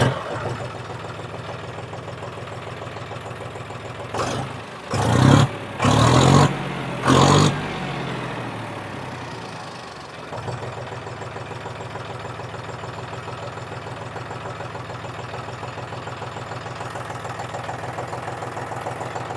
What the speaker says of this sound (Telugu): బండి అయితే స్టార్ట్ చేసి బీటింగ్ ఎలా ఉందో చూద్దాం